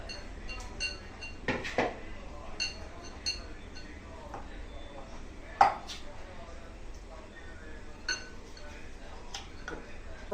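Boiled potatoes are mashed in a vessel, with a few soft, irregular thuds and clinks of the utensil against the pot spread across a quiet background.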